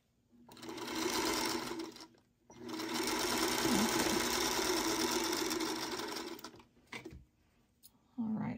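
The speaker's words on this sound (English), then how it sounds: "then I just go ahead and sew across." A sewing machine stitches quilt block pieces in two steady whirring runs, the second long and continuous, followed by short clicks and handling noises, close and loud.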